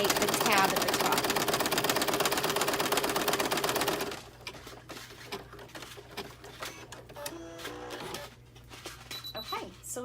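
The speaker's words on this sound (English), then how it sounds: "So this is a bean stitch going all the way around to create the outline, secure the backing on," Home embroidery machine stitching a bean stitch outline for an in-the-hoop snap tab, a loud rapid mechanical clatter of needle strokes for about four seconds, then stopping, followed by quieter handling noises and a voice.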